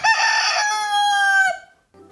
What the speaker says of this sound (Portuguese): vovô, por que que esse galo canta tão alto?